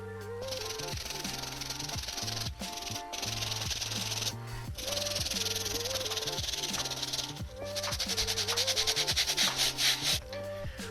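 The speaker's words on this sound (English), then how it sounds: "I'm going to use a brass bristle brush and just go over the whole bottom again" A brass bristle brush scrubs the sole of a Jordan 3 Stealth sneaker in steady, continuous back-and-forth strokes, close and fairly loud, with a rhythmic rasping that quickens toward the end under background music.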